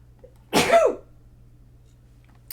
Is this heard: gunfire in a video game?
no